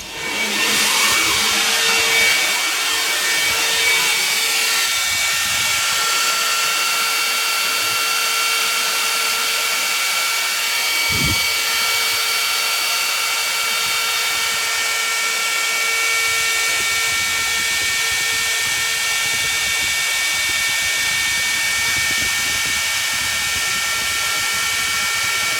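A CNC machine cuts a steel flywheel, giving a loud, continuous high-pitched whine with steady tonal lines, one brief knock partway through and a constant hiss underneath.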